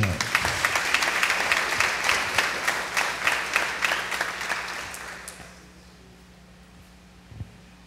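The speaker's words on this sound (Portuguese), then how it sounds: "o nosso assessor, Padre Marcílio, com a salva de palmas" A church congregation at a Bible study gathering gives a round of applause that is close and loud, then fades out after about five seconds, leaving quiet room hum and a single late knock.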